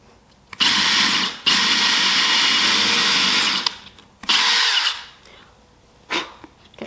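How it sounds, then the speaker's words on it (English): A power drill whirs loudly in a few sustained bursts, close by, stopping and starting again, with a short final spin at the end. "now we're just going to drill"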